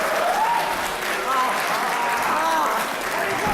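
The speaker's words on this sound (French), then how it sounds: "applaudi par le public." Wrestling crowd at an NWC event applauding after a backbreaker, steady dense clapping with cheers over a commentator talking throughout, sustained for several seconds.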